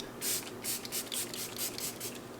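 A mini bottle of Ilia Blue Light Filter Mist setting spray, a fine facial mist, sprayed in a series of about six or seven short, close hissing bursts, each quick puff following the last, with no talking.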